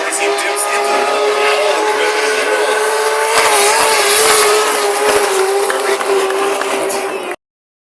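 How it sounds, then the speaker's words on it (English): A drift car on a judged run, its engine roaring loud and sustained close by with rising tyre noise, then cutting off abruptly at the end. "Listen to those sounds coming out of that car."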